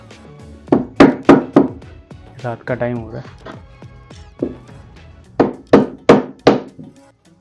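Pins are hammered into a wooden canvas stretcher frame at home in two bursts of three or four sharp, close, loud blows, with someone talking in between.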